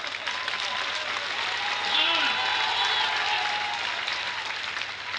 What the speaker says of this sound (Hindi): अब जरा ताली मारो उसके लिए।